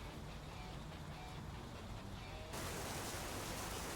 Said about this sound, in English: Oh, it's very rainy now.